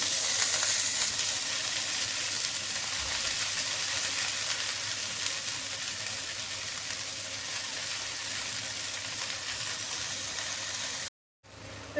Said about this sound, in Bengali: তো এই তেলের মধ্যে আমি দিয়ে দেব কেটে রাখা ধনেপাতাটা।